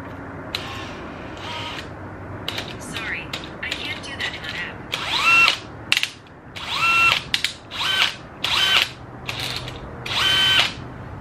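A power drill bores holes for a front splitter on a Subaru WRX STI, running in short repeated bursts of whirring with pauses between, close and fairly loud.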